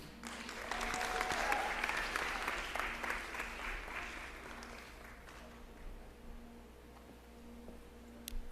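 A school township audience applauds staff members one at a time at a public schools event, a broad wash of clapping that builds quickly, holds steady, then thins to scattered claps near the end.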